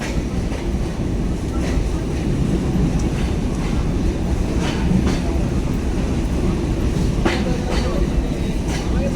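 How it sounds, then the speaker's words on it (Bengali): The Sundarban Express passenger train leaves Rajbari station in Bangladesh, a loud, steady rumble of rolling carriages with faint rhythmic wheel clicks heard from aboard. A voice talks over it. "প্রায় 40 মিনিট বিলম্ব নিয়ে রাজবাড়ী ছেড়ে গেল সুন্দরবন এক্সপ্রেস।"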